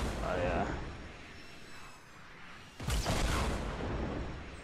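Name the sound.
rocket explosions from enemy player in a video game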